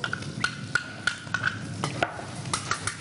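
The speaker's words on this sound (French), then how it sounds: "On va mélanger la crème fraîche avec les œufs." Crème fraîche being mixed with eggs in a bowl, a spoon or fork clicking against the sides in an irregular series of light taps over a faint background hiss, with no talking.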